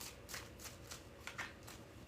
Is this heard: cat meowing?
no